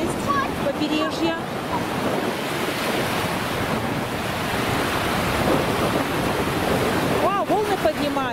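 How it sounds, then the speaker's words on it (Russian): Ocean surf rolls and breaks continuously on a shore, a dense steady wash of waves with wind buffeting the microphone throughout and brief voice-like tones near the start and end. "Вау, волны поднимаются."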